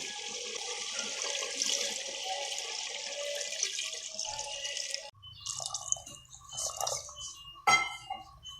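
Water pours steadily into a pot of fried beef trotters for several seconds, then splashes and drips with some clattering of a container close by.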